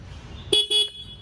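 Electric scooter horn, sold as a budget delivery bike, gives two short, close electronic beeps in quick succession over faint background noise, with no talking.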